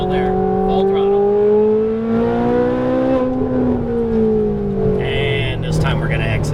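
A Ferrari 458 Italia at full throttle on a racing track in Las Vegas, its engine note climbing loudly and continuously from inside the cabin while an instructor's voice talks over it.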